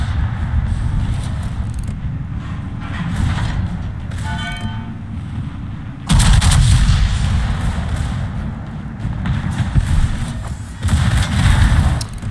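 Heavy main-gun salvos from the battleship Yamato in a naval battle game, deep booming blasts over a constant low rumble, with a louder sustained barrage midway and another near the end.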